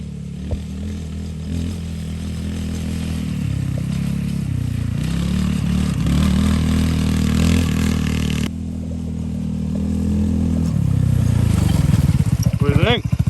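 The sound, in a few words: Polaris Ace 150 vehicle driving full speed and drifting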